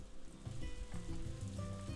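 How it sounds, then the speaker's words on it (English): Rain falls in the video game Story of Seasons: A Wonderful Life, a dense crackling patter like sizzling, steady and close, with faint tonal music underneath and no talk. "Is it raining? It sounds like it's raining."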